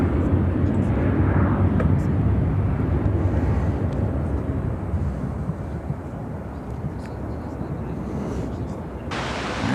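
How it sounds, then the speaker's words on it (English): American Airlines Boeing 737-800 taking off at Chicago O'Hare, a loud rumbling jet roar strongest at first and slowly easing, a broad hiss continuing with no speech. "This is American Airlines 944 taking off to Bozeman on the"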